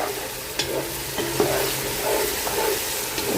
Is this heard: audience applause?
no